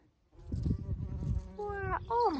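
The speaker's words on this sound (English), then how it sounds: "Oh, hello, busy bee." Bees buzz steadily after a brief silence, a droning hum that rises in pitch near the end, close and moderately loud.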